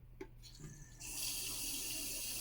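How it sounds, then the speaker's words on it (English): A kitchen sink faucet fed by a Seaflo 55 series 5.5 GPM pump with a 2-gallon accumulator tank is turned on after a couple of faint clicks, then water gushes in a steady, loud, close stream. "I'm going to turn on the faucet and we're going to have a lot of flow before the pump ever needs to come on"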